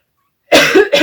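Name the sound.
cough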